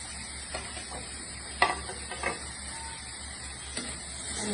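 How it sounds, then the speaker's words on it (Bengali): Spices with garlic paste, green chili, salt and turmeric sautéing in a pan, a soft steady sizzle with a few sharp scraping stirs of a spatula, fairly quiet and close, with no talking. "ভালো করে সব কটা মশলা কষিয়ে নিয়েছি"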